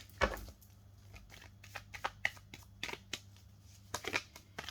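Tarot cards shuffled by hand, a quiet close run of crisp riffles and slaps in an uneven rhythm, with brief pauses between bursts.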